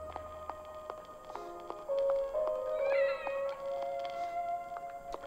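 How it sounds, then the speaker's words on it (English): A cat meows several times in a video game, the rising and falling cries overlapping a steady electronic tone and background game ambience. "there's a cat"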